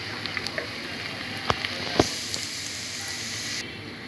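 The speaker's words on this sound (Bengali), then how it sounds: "এখানে আমি আদা রসুন জিরা পেস্ট এবং 1 চা চামচ পরিমাণ হলুদ গুঁড়া দিয়ে মশলাটাকে ভালো করে কষিয়ে নিব।" Ginger, garlic and cumin paste with turmeric powder sizzles steadily in hot oil for Bengali tel koi, with a dense, even hiss broken by a few sharp clicks and pops as the spices are stirred.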